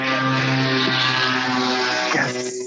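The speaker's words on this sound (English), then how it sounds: "No, that was a little putt car that went past my window." A small car putts past a window nearby, a steady droning engine hum held for a few seconds with no one talking.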